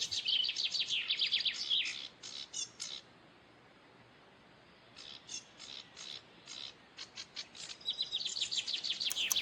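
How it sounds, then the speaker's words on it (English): A spring bird chirps in quick bursts of high, thin tweets, pauses briefly, then resumes with a run of rapid chirps that grows denser toward the end. "It's a bird."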